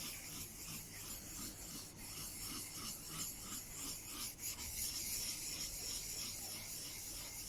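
A chisel is rubbed back and forth on a 10k waterstone in a steady, faint rasping rhythm of repeated strokes, close by and with no voices.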